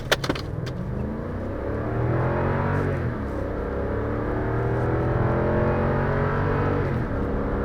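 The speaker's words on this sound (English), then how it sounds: "So you can hear that V8 engine just roaring." The V8 engine of a 2020 Lexus LX570 SUV roars steadily from inside the cabin as it accelerates from 0 to 60 in normal mode, a loud, continuous rising drone with a few clicks at the start.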